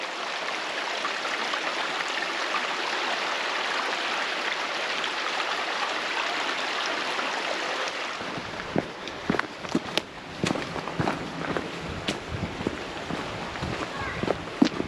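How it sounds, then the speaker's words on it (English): A creek along the Ouachita Trail in Arkansas gives a steady broadband rush of flowing water for about eight seconds, followed by irregular crunching, footstep-like knocks that continue over a quieter background. "Nice little pretty creek down there."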